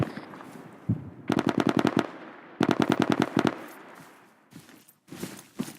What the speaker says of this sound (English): Shots coming from the east